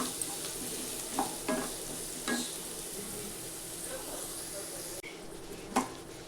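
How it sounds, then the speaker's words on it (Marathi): Diced potato sautés in a hot pan for a vegetable pulao, with a constant close sizzle broken by several spatula stirs and scrapes. "आता त्याला 2-3 मिनटं बटाट्याला चांगलं परतून घ्यायचं"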